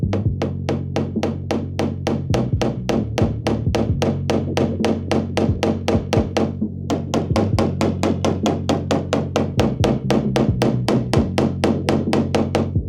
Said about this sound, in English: we're gonna slowly work around it with a blending hammer. So lightly tap it